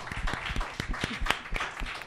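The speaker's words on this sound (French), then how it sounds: "Vous pouvez vous applaudir" A brief round of scattered clapping from a small group, close by and fairly soft, lasting only a couple of seconds.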